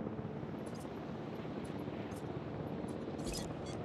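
A helicopter in the dinosaur park game Jurassic World Evolution, a steady rumbling rotor drone at moderate loudness with faint game chimes over it and no speech.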